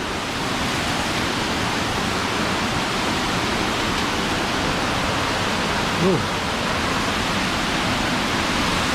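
Constant roaring rush of a powerful waterfall in Mae Kampong, Thailand, with a temple in the middle of the falls, dense and unchanging throughout, with a brief word spoken over it.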